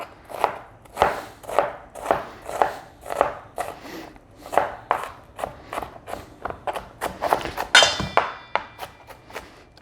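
Steady knife chopping of onions on a cutting board, a quick run of close, crisp, rhythmic strikes with a few brief pauses, heard alone with no talking.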